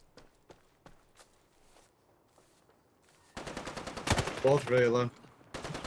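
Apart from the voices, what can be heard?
gunfire in Islands of Nyne video game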